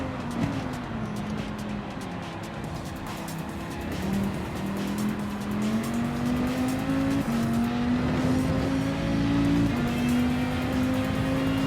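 Corvette and Lamborghini Huracan race cars lapping Daytona, a loud onboard engine drone whose pitch falls, then climbs steadily through upshifts as the car accelerates, with faint tire noise.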